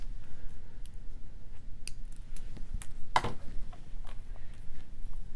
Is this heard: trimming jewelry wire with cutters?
yes